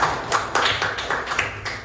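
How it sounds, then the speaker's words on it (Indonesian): Classroom of students applauding a classmate, a close, loud patter of hand claps in uneven bursts, with sharp individual claps standing out throughout. "Tepuk tangan buat Arya."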